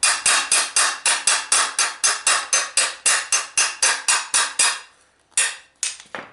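Rapid, sharp metallic hammer blows ring out in a steady fast rhythm, loud and close, then pause before a few final strikes, as a steel sill repair panel for a Nissan 350Z is curved in a vise.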